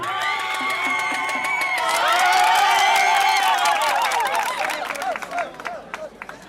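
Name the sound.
applause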